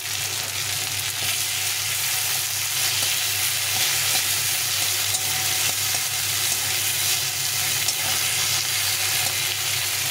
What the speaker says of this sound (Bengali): টমেটোটাকে একটু ভেজে নেব।